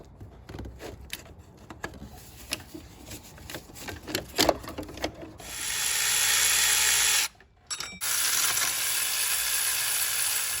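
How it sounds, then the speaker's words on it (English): Ratchet with a 12 mm socket working loose the belt tensioner bolts on a 2004-2015 Nissan Titan engine, a series of close clicking pawl bursts followed by a steady, louder whirring run with a brief pause near the end. "we need to remove the 3 bolts that hold on the belt tensioner assembly, and I believe we're going to be using a 12 millimeter socket for that"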